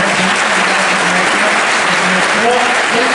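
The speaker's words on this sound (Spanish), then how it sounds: "Vamos a dar un fuerte aplauso a la" Loud, dense audience applause fills a concert hall after a symphonic band's transverse flute demonstration in Veracruz, steady throughout with faint voices beneath.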